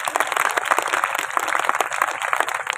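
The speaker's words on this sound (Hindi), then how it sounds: "तीनों बच्चों के लिए जोरदार तालियां।" Audience at a school annual function clapping for three children, a dense, continuous round of applause with steady hand claps throughout.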